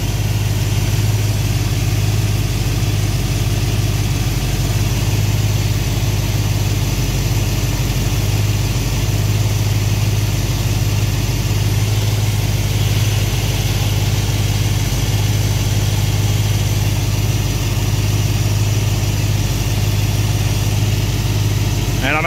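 A car engine runs steadily nearby, a constant low rumble and drone that stays even and loud throughout, settling at idle with no talking.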